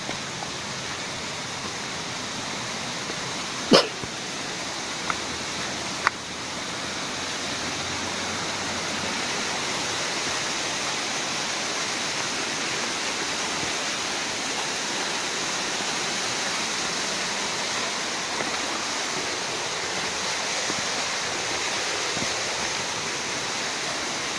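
Steady, full rush of the Tengkorak waterfall pouring continuously, with a couple of brief sharp clicks early on.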